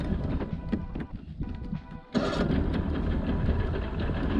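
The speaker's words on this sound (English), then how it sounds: "Let that old two-stroke smoke," An old two-stroke outboard on a fishing boat on Lake Ouachita runs close by with a rough, rattly mid-pitched drone, dipping briefly before surging louder; a voice talks over it.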